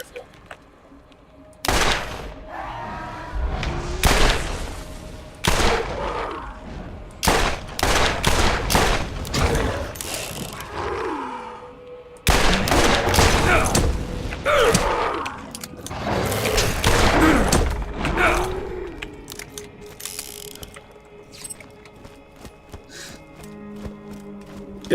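Bursts of rifle fire from a Tediore combat rifle in Borderlands, loud rapid volleys separated by short pauses, with game effects and a voice talking in between.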